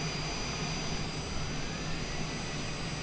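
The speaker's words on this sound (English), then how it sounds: "Right engine's just about coming up" Jet engine spooling up on an airliner during pushback at Greensboro, a steady broad roar with faint high whine tones, continuous and fairly loud throughout.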